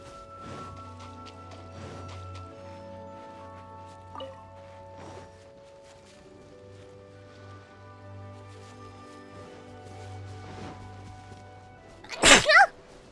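One sharp, loud sneeze bursts out near the end, after a long stretch of quiet video game music with soft ambient tones and faint clicks.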